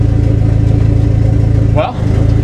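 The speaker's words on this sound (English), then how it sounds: "I'm trying to stall the car, so I know the brake's holding it" A car engine labours loudly in gear against the held brake, a steady low thrum that dips and wavers near the end, with a voice speaking briefly over it.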